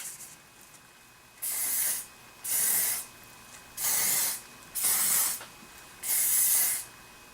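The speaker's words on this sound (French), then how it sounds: "Ce qui va rester à faire, c'est de mettre du spray." Hairspray is sprayed onto curled hair in five steady hissing bursts of about half a second to a second each, separated by short pauses, close and fairly loud.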